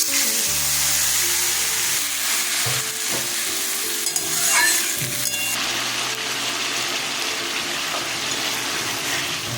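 Loud frying sizzle of spices with tomato, green chilli and ginger paste, with scraping and stirring sounds, plus occasional hum and clatter, steady throughout with no talking.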